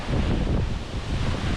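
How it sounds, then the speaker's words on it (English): Heavy spray from a 155-foot Idaho waterfall pours down like rain, a dense continuous roaring wash close to the microphone with wind buffeting. "So the water is crazy. It's literally like a rainstorm right here."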